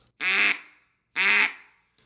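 Duck call played wrongly with plain air blown through it, giving two flat, buzzy, kazoo-like quacks, each about a third of a second, loud and close with a clear gap between them.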